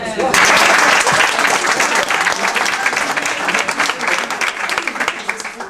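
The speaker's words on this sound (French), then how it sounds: "Donc vous pouvez vous applaudir." An audience claps loudly and steadily at a gathering in Gerland, a dense, continuous applause close by with voices mixed in throughout.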